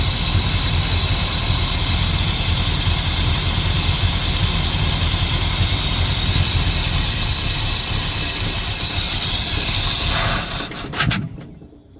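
A 1977 Dodge D150 with a 440 big block V8 and a failing mechanical fuel pump runs loud and steady at close range, then sputters and dies near the end.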